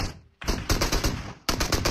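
Rapid Mini14 rifle fire in PUBG Mobile, loud close shots in quick succession after a brief silence, pausing once before another burst.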